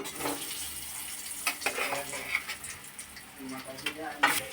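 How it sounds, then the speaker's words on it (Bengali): Pumpkin pieces hit hot oil seasoned with black cumin, giving close crackling sizzles and a few sharp spatters and clatters, with no talking. "তেলের মধ্যে কুমড়োগুলো ছেড়ে দেওয়া হলো"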